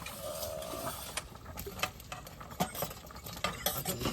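Fresh hilsa fish, caught alive from a Sundarbans river, goes into a pan to cook, with scraping spatula strokes against the metal and a soft sizzle, rhythmic and close.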